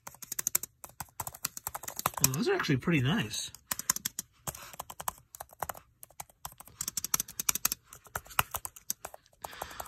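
Rapid clicky keystrokes on the keys of a Logitech Combo Touch iPad keyboard case, close and crisp in uneven bursts, with a person briefly speaking partway through.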